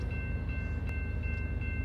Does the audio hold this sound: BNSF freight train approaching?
yes